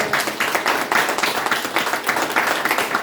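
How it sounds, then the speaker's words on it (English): An audience closing a festival Q&A gives a dense, even round of applause, many hands clapping together steadily at close range for a few seconds. "a round of applause for Ricardo Autobahn"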